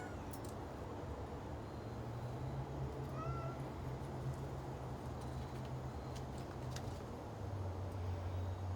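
A cat meows a few times, faint and somewhat distant, over a steady low hum and background noise with no talking.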